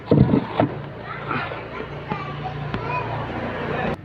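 A Honda Supra X 125 motorcycle with an intermittent ignition fault cranks and settles into a low, uneven engine hum, while voices talk over it almost throughout.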